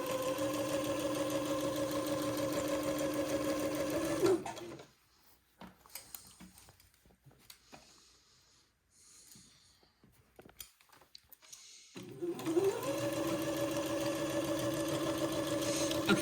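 Sewing machine runs a basting line around a project with a steady, close motor hum, falls silent for several seconds of faint handling noise, then starts up and hums steadily again.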